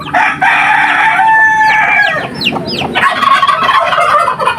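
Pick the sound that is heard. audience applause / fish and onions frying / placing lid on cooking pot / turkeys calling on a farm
turkeys calling on a farm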